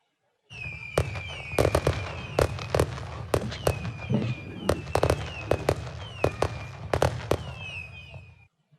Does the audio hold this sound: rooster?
no